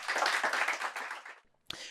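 Audience applause after a startup pitch, a short burst of clapping that fades out, followed by a brief gap and one sharp clap.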